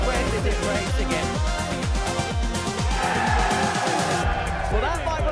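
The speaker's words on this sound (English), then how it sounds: "that might well be the biggest cheer we see tonight" A large darts crowd roars and chants loudly in rhythmic, pulsing bursts at a live darts league night, filling the space continuously, with a commentator talking over the noise.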